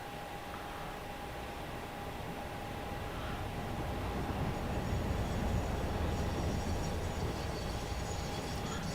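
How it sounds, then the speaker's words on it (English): A train in the video game Satisfactory runs along its rails with a continuous rumbling roar and a steady high whine, growing slightly louder partway through and heard alone. "this train is just annoying me, the fact it just keeps running back and forth bringing nothing"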